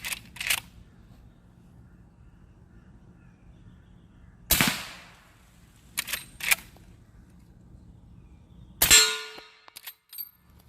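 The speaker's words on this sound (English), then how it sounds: "Second round on steel." Quiet subsonic rounds from a lever-action rifle striking a steel target, several short sharp cracks and metallic clangs spaced a few seconds apart over faint background noise.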